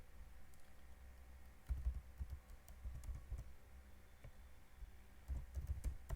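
A computer keyboard typing a database name, quiet irregular key clicks in short clusters with soft thumps, close but faint against a low steady background hum, no talking.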